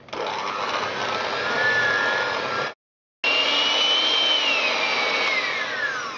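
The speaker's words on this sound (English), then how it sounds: "I'm going to use just an electric whisk" An electric whisk mixes chocolate cake batter with a loud, steady motor whir and a slightly shifting whine. It cuts out for about half a second, then starts again.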